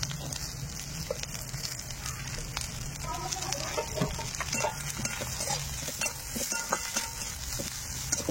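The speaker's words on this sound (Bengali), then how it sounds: "এবার দিয়ে দিচ্ছি পেঁয়াজ কুচি" Chopped onion and ginger fry in a pan, a faint steady sizzle with light stirring scrapes and clinks scattered throughout.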